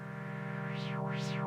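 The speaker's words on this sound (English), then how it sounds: "filter sweep we're making over and over again" A Roland Gaia synthesizer holds a buzzy, steady tone while a filter sweep opens and closes in repeating cycles, giving a rhythmic wah-like rise and fall. It is fairly quiet, with no voices.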